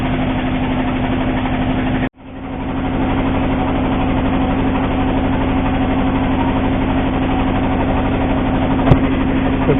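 A trawler boat's diesel engine chugs steadily and loudly up close while crossing the Nikli haor toward Mithamoin, a dense continuous drone with a brief dropout early on before it settles back into its even throb.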